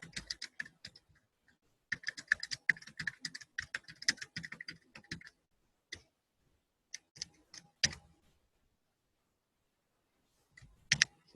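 Mouse clicks on a web page button, a burst of dense clicking and tapping at the start, then a few isolated clicks separated by silence and a final short burst near the end, fairly quiet, no talking.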